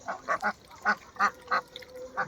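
Penned farm ducks quack in a quick series of about eight close, loud calls, some in pairs, with short pauses and no talk.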